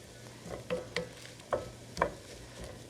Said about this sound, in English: I'll leave it on top there so the onions can continue to sear